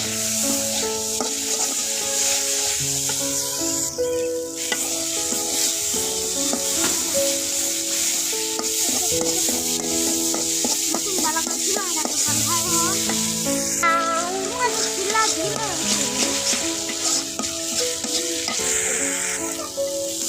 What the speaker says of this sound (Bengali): মশলাটা কিন্তু একদম ভাজা ভাজা করে দিচ্ছি